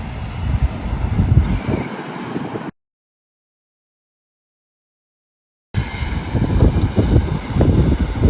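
An RC drag car makes a test run under Futaba 10PX radio control, a loud, steady roar of motor and rushing noise that cuts out abruptly for about three seconds and then resumes just as strongly.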